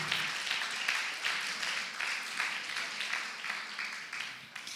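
A church congregation claps together in praise during a Sunday sermon, a full, roomy wash of hands beating in a steady pulsing rhythm, loud and continuous throughout.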